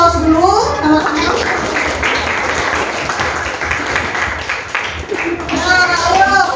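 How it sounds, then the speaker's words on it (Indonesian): An audience applauds steadily and loudly throughout, with a few voices calling out over the clapping at the start and end. "Berikan aplaus dulu sama-sama."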